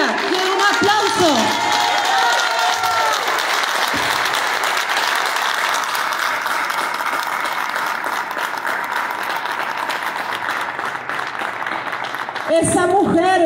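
Crowd at a political memorial tribute breaks into sustained applause and some cheering, long and even, framed by a voice speaking at the start and again at the end.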